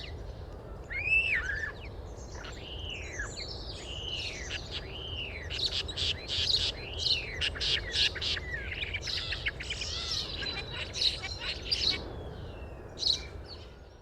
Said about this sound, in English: European Starling.